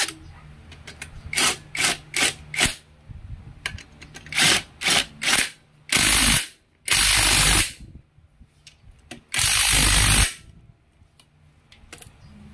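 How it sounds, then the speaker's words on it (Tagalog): A hand ratchet tightens the swing arm bolt on a scooter, with several short clicking bursts followed by longer sustained ratcheting runs, loud and close in a quiet workshop. "Higpitan na muna natin tong swing arm natin bago natin siya higpitan."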